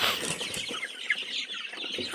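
Native chickens cluck and rustle inside an old cage, a busy close chorus of soft clucks and scratching that continues steadily without any talking.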